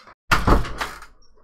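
A door swings shut indoors with a single solid thump that rings on in a reverberant echo, fading over about a second in an otherwise quiet room.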